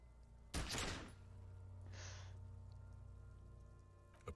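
A single loud gunshot bursts from a pistol in the detective RPG Disco Elysium, a sharp broadband blast with a short ringing tail, then a softer whooshing puff over a steady low game-music hum.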